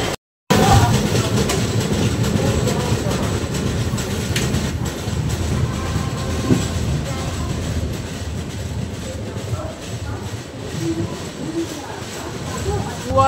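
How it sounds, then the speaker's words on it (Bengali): Kolkata Garib Rath Express train pulling away and running on the rails, with a loud continuous rumble and rattle heard from onboard after a brief silent gap at the start, and talk mixed into the noise. "জাস্ট নিলাম ওইমাত্র ট্রেনটা ছেড়ে দিল"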